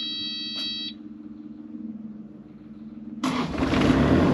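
A Kubota U35-4 excavator's air conditioning is switched on with no refrigerant gas, bringing a sudden broad whir of blower and running machinery after a steady low hum and a brief electronic beeping tone near the start.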